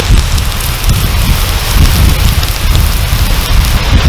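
Outdoor storm rolling in over a UK woodland bushcraft cooking spot: steady, loud rain and gusting wind roar continuously close to the microphone, with a low rumble underneath.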